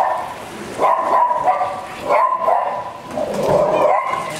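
A dog barks in several close, loud bursts, with short gaps between volleys and a few whimpering yips mixed in, and no talking over it.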